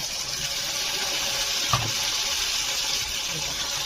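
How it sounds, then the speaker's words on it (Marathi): Spiced water poured into a pan of dhaba-style egg curry gravy: a short liquid splash and gush near the middle over a steady background hiss, fairly quiet, with no talk. "त्यामध्ये आपण मसाल्याचं पाणी ऍड करून घेऊया."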